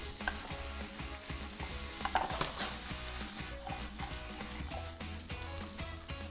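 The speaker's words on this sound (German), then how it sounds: "So, Kartoffeln in Pfanne geben." Potatoes fry steadily in a hot pan with a little oil while a utensil stirs and scrapes, with occasional clinks against the pan.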